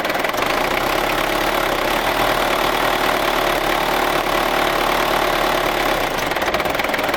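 A Ford Ranger engine idles steadily up close, a continuous loud rumble with a faint knocking texture and no talking over it.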